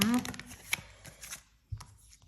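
Tarot cards are laid out on a table during a reading, with brief slaps and soft shuffling bursts following a voice at the start.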